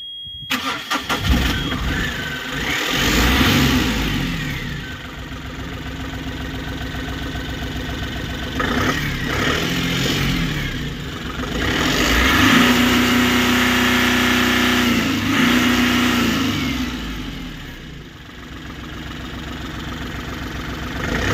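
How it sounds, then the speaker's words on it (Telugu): A Bolero pickup's engine cranks and catches, then idles steadily at close range with a couple of revs rising and settling in the middle; no talk over it. "ఇప్పుడు నేను వెహికల్కి సంబంధించిన ఇంజిన్ వీడియో అయితే పెట్టడం జరుగుతుంది"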